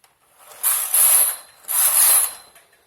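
A hand-operated knitting machine lays rows of jali-pattern stitches, its carriage sliding across in two long hissing, clattering passes with a short gap between them, close by.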